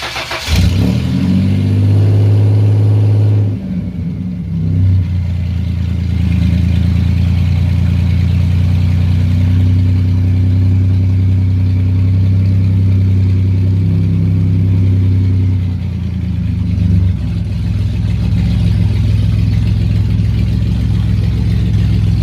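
A car called The Reaper, just repaired after its coil was reinstalled, rumbles loudly and steadily as its engine runs, with a sharp start at the beginning, a brief dip, then sustained revving at close range with no talk.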